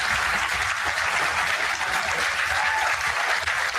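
A European audience applauds Donald Trump, a dense, steady roar of clapping that holds loud and continuous throughout with no gaps.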